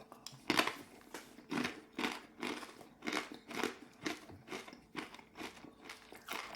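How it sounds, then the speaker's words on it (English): Hard, crunchy flatbread eaten with cheese gives a series of about a dozen close, evenly spaced crunching chews in a steady rhythm, fairly quiet and with no talk. "Hard, crunchy flatbread."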